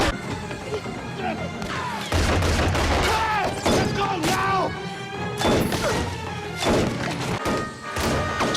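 Gunfire in the TV drama LOST, sharp bangs, crashes and thuds scattered through a loud, busy scene, mixed with shouting voices and dramatic score.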